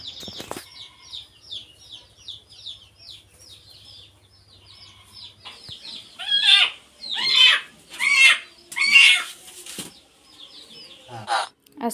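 A hen in a straw-lined basket of eggs clucks in a rapid series of soft calls, then gives several louder, close clucks in a burst before quieting again.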